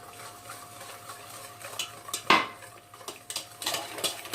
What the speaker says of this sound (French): Donc vous mélangez bien